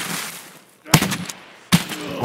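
Gunfire in the video game Escape From Tarkov: two sharp, loud shot bursts about a second apart, each decaying quickly, following a quieter noisy stretch.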